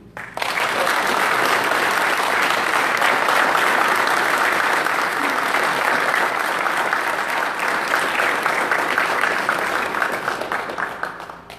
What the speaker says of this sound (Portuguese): Aplaudamos, meus irmãos.